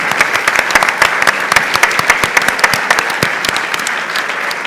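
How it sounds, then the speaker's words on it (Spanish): An audience applauds in tribute to the late actor Manolo Zarzo at a film exhibition talk, a loud, dense wash of steady clapping that continues without a break and with no voices on top. "Pido un fuerte aplauso para uno de los grandes."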